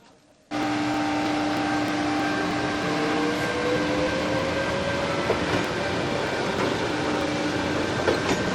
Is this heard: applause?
no